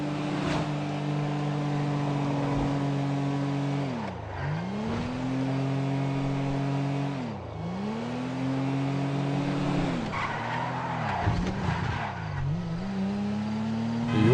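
A car engine drones steadily while driving in GTA 5, its pitch repeatedly climbing and dropping through gear changes, with loud revving and brief shifts and no talking.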